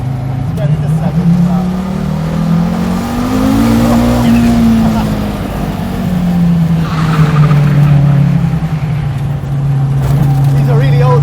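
A 1985 Audi Sport Quattro S1 rally car on roughly 30-year-old tyres pulls hard, its loud engine revving up and then dropping and climbing again through a shift into second, with tyre noise mixed in.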